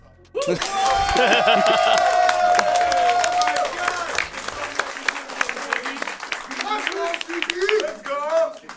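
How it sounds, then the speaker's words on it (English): Applause from an audience at a speedrunning event, a dense patter of clapping that carries on for several seconds, with a sustained electronic tone in the background early on. "that's impressive, if you want to clap"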